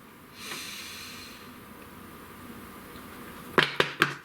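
A long, slow breath drawn in with a soft airy hiss, close and quiet, followed by three sharp percussive clicks at the end.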